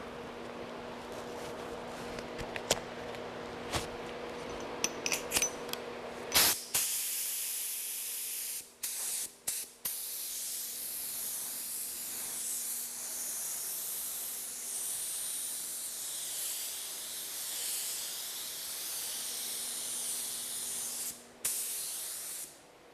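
An aerosol can sprays sealant across car bodywork and feathered paint edges, a steady close hiss running in long passes broken by short pauses.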